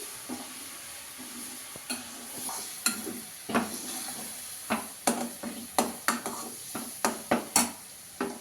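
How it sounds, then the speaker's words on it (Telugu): Ginger garlic paste frying in a pan for chicken pickle, a soft sizzle under repeated sharp spoon scrapes and taps that quicken into a regular rhythm toward the end, close by and with no voices. "అల్లం వెల్లుల్లి పేస్ట్ అది వేసేసుకోవాలి దీన్ని అయితే కొంచెం పచ్చివాసన పోయే వరకు వేయించుకోవాలి"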